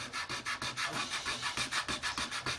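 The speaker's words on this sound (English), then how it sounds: "You should be able to then get in there and rub it off to reveal your chipping" Wet fingertip rubbing mask oil and paint off a model surface, a quiet, close, rapid back-and-forth scrubbing of roughly a dozen even strokes.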